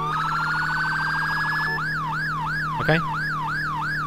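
An emergency siren from a TCLights vehicle lighting controller wails steadily, first a fast warble and then a slower rising-falling yelp, loud and close, with a brief click partway through and one short spoken word.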